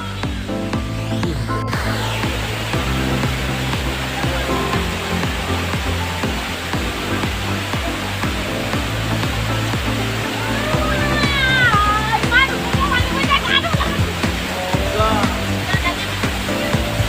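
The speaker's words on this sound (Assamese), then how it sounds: "লংডিঙলৈ যোৱা ৰাস্তাত প্ৰথমটো জুৰি" Mountain stream water rushes steadily beside the road to Longding in Arunachal Pradesh, a dense, constant roar close by, with a few high chirps rising over it near the end.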